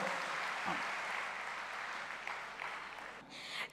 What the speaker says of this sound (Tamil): நீங்கள் ஒரு நல்ல கரகோஷம் கொடுத்து அவங்களை வரவேற்கும்படி அன்போடு கேட்டுக்கொள்கிறோம்.